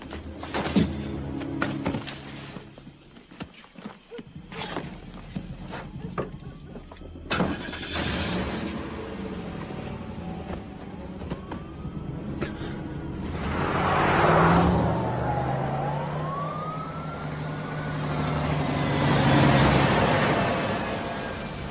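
A car passes by in a dramatic scene, a low engine hum with rising and falling whooshes that swell louder toward the end, plus occasional thunks; no speech.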